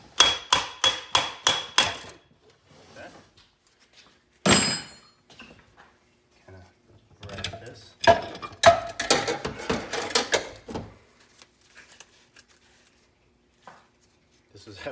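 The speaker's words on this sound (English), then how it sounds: "get this out, so you can hit it with a hammer in the back." A brass hammer strikes a transmission part on a 2004 Chevy 1500 4x4 in a quick burst of sharp clangs, then a single loud hit, followed by more clustered knocks and rattles nearby.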